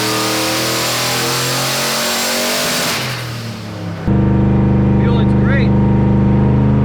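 A turbocharged Foxbody Mustang engine with an On3 turbo kit and Holley Terminator X revs loudly and close during tuning, dropping briefly then surging back to a steady high drone.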